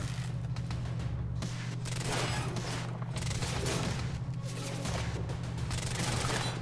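Sustained gunfire in the third-person shooter Quantum Break, a dense continuous fusillade of rapid shots over a steady low hum, filling the whole stretch without pause.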